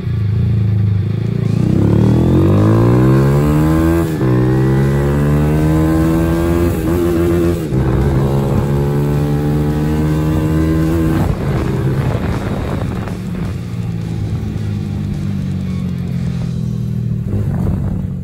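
A Yamaha YBR125 motorcycle fitted with a 150cc bore kit roars loudly while riding, its engine pitch climbing and dropping through repeated gear changes, with heavy wind buffeting the microphone throughout.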